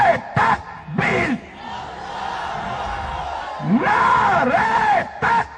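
A large political rally crowd roars a chanted response to a Takbir slogan in Karachi, massive distant-sounding unison shouts rising in waves, alternating with a leader's amplified call.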